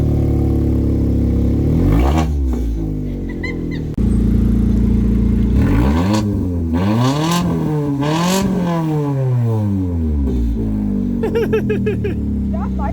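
A Fiat 500 Pop fitted with an Abarth exhaust revs close by and loud, its engine climbing and falling in several sweeping pulls that drone over continuous idle, with brief talk at moments.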